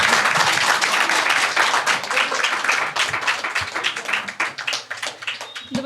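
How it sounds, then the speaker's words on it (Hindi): Audience applause at a Hindi poetry recital, a dense crowd of hands clapping loudly and steadily throughout, tapering into more scattered claps near the end. "एक बार जोरदार तालियां बजा के दिखाओ यार।"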